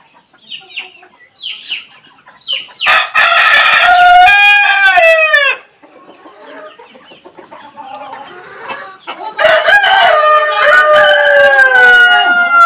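Loud crowing from a rooster on a farm, two long harmonic calls separated by quieter clucking and chicken chatter, with small bird calls at the start.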